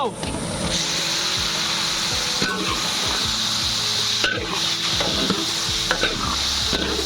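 Spice-marinated duck meat goes into a hot wok over browned onions and is stirred, giving loud, continuous sizzling and frying hiss with repeated scraping strokes of the spatula throughout.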